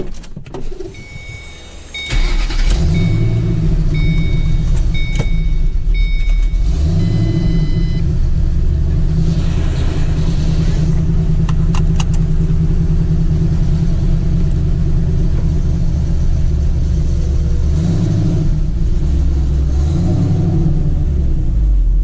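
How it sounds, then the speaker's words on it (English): A deep, rumbling V8 exhaust from a cammed 2006 Ford Mustang GT with Pypes long-tube headers builds as the car pulls away, then drones steadily with a few revs rising and falling while driving. "let's go on a quick drive here and listen to that Pypes exhaust"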